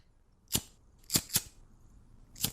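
A cartoon lighter is flicked four times, sharp dry clicks in an uneven rhythm, close and fairly soft against a quiet background.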